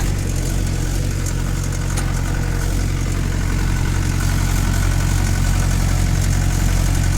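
A 2000 Mahindra 575 tractor engine running close by, a loud, steady diesel rumble with an even low throb that holds unchanged throughout, no voices.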